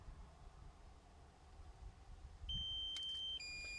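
Low-battery warning from a flying device: quiet background hum, then a short series of thin, high electronic beeps near the end, close and clear with no talking.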